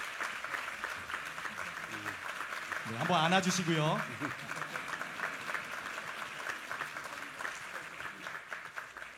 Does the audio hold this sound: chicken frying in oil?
no